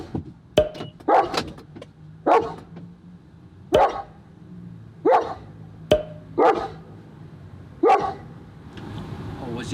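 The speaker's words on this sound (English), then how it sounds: "I noticed you kept barking even when I went inside." German Shepherds bark in sharp, separate bursts, about nine barks spaced a second or so apart, fairly close, with a low hum underneath.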